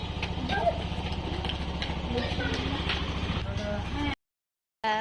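A motorcycle engine idles with a steady, close mechanical rumble under people talking, then it cuts out abruptly into near silence before sound briefly returns at the very end.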